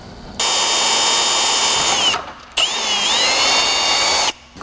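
A power drill whines loudly in two long bursts with a short pause between, the pitch dipping as the bit bites into hard plastic.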